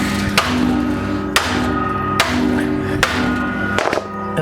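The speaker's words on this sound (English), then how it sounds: "just pound down on here with a hammer" A hammer pounds a part into a hole on the front end of a 1966 Holden HR, four sharp metallic strikes about a second apart, close and loud.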